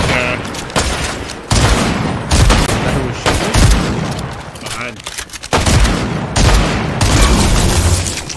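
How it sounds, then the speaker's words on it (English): Dense bursts of gunfire from a Fortnite match crackle in rapid, overlapping volleys, loud and continuous across the stretch, with booming shots and brief gaps between flurries. "I see gunshots going on over here."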